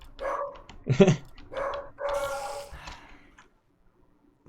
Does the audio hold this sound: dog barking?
yes